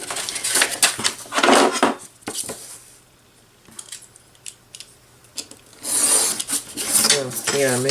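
Craft material being trimmed by hand, with close rasping and scraping cuts in uneven bursts separated by quieter pauses. A voice may briefly come through near the end.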